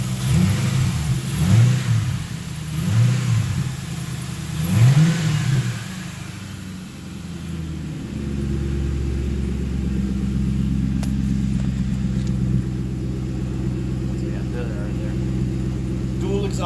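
A mill truck's engine breathes through true dual exhaust mufflers, swelling in several revs before settling into a steady, rumbling idle close by, while someone talks over it in the opening seconds.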